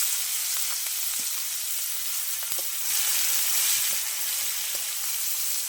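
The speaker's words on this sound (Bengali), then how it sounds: "ফোড়নটা একটু ভালো ভাজা হয়ে গেলে দিয়ে দেবো এতে পেঁয়াজ কুচি" Chopped onions frying in hot oil after a tempering, a continuous soft sizzle with occasional small pops and crackles, fairly close and steady throughout.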